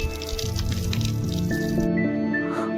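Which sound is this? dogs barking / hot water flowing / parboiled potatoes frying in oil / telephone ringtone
hot water flowing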